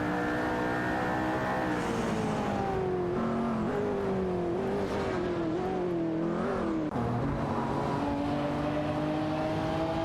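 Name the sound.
race cars in a racing video game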